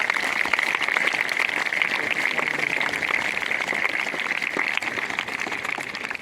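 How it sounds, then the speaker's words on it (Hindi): An audience at a senior secondary school ceremony claps for an honoured student. The dense, even clapping continues without a break under a steady room tone. "तो एक बार पुनः तालियां बजाएं इस बच्चे के लिए"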